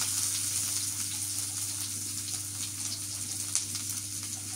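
Chopped onions drop into a hot pan with oil and cumin seeds and fry with a steady, close sizzle, a soft continuous hiss with faint crackles.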